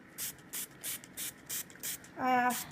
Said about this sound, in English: I'm just going to spray it all over.